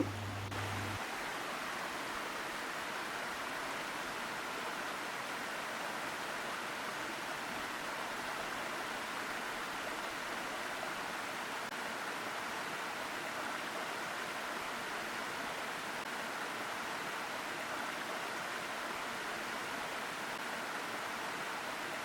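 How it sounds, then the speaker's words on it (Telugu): Steady, unbroken rush of falling water, broad and hissing like a waterfall, continuous throughout with no voices. "వాటర్ పైనుంచి పడుతుంటే చాలా మంచిగా అనిపిస్తుంది"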